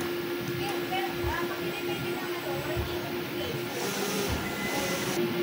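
An inkjet printer with an ink tank system hums and whirs steadily through a nozzle test, a continuous mechanical drone with faint hiss and light clicks.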